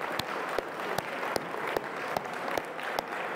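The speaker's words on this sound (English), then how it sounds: "Let's just give one more round of applause for the amazing team for setting all of this up." Applause for the organizing team at a Voron 3D printing community event, a steady crowd clapping with sharp individual claps standing out, moderately distant and fairly even throughout.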